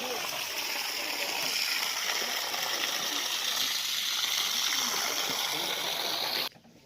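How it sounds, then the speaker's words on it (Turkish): An electric water pump feeding a 3000-litre water tank sends a steady rushing gush of water, loud and continuous at close range, before the flow cuts off abruptly near the end. "El pompası elektrik elektrikle çalışan su pompası."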